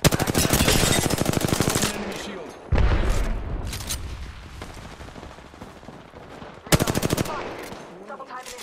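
Bursts of rapid automatic gunfire in a shooter game, loud and close, a long burst followed by a single heavy blast and another short volley, with a voice talking in between.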